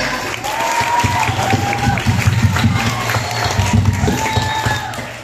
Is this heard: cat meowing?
no